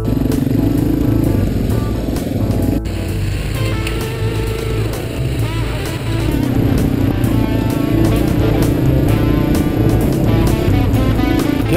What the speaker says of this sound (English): Nothing like a DR350 that'll lug you anywhere you want to go.